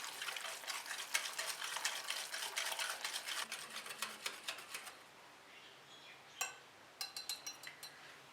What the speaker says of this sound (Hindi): अब इसमें डालेंगे 1 टीस्पून वनीला एसेंस और इसको अच्छी तरह से विस्क करेंगे